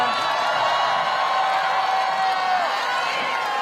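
Crowd at an outdoor campaign rally in Seoul applauding and cheering, a steady wash of clapping and shouts that holds at an even level throughout.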